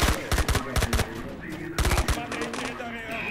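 Automatic gunfire in the video game I.G.I 2: two loud bursts of rapid rattling shots separated by a brief pause, close and punchy, with a little game sound between them.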